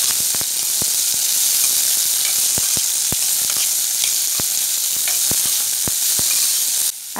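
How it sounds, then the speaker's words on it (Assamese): Tengamora leaves fry in hot mustard oil with panch phoron, a dense continuous sizzle and hiss punctuated by frequent sharp crackles and pops, close and loud throughout. "কেৰাহীখন গৰম হ'লত অকণমান নামমাত্ৰ মিঠাতেল দি দিছোঁ মিঠাতেলত দি দিছোঁ কেইটামান পাঁচফোৰণ আৰু পাঁচফোৰণকেইটা ধুনীয়াকৈ যেতিয়া ফুটি গ'ল তাতে মই এই টেঙামৰাখিনি দি দিলোঁ"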